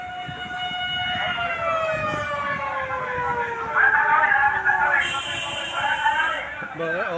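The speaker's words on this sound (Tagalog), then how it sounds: "Fire truck ng Kainta, dumating na." Fire truck siren wailing as the engine arrives at a house fire on Salamat Street in Taytay, Rizal, loud and close with a descending, shifting pitch, while people talk over it.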